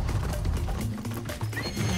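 A horse in Far Cry 6 lets out a loud whinny over rapid, rhythmic hoofbeats as it gallops, with game background noise filling the mix.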